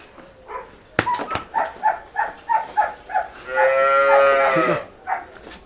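A young buffalo heifer on a farm gives a run of short, loud, close moos in quick rhythmic succession, then one long drawn-out bellow before a final short call, with no talk over it.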